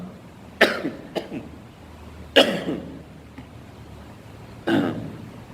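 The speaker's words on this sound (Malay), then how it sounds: "Batuk" Three separate coughs spaced a couple of seconds apart, sharp and fairly close, each with a brief rough tail, over a low steady background hum.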